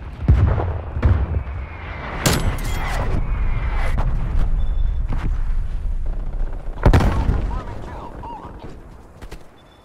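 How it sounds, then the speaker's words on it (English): Artillery strike called in during a Call of Duty Cold War match: several heavy booms land over a continuous rumble of battlefield noise, with the loudest blasts near the start, middle and around the seventh second. "Hunter calling in artillery"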